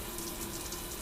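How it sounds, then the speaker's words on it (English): Water runs from a faucet in a campground fish house, a steady close hiss of flow without talk. "yep, faucets are all working."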